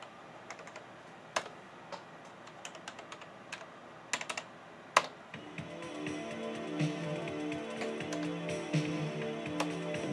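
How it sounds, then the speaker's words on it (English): Steady clattering keystrokes on a Gateway 2000 P5-90 computer keyboard, typed awkwardly from an off-angle position while running MS-DOS, close and fairly loud, with scattered taps giving way to continuous rapid typing. "it's very awkward typing from over here."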